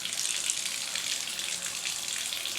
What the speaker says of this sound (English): that's a trickle of water